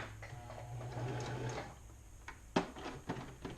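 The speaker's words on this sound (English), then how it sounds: "just do a little bit more backstitch." A sewing machine runs a short backstitch on a mesh bag, giving a quiet rapid mechanical whir that stops and starts, followed by a few sharp clicks and taps.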